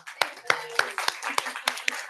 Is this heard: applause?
yes